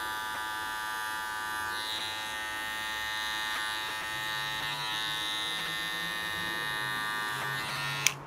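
An electric hair clipper buzzes steadily and close up while cutting hair around the ear during a men's haircut, a constant whine with slight shifts as it moves, ending in a short click.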